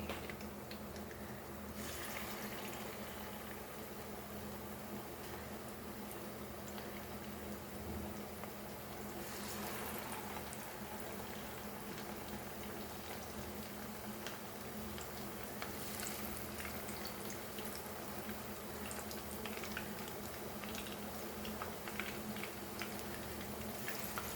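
Prawn tempura sizzling in hot oil, a steady broadband crackle and hiss that runs unbroken throughout with a few brighter bursts of spattering, no talking.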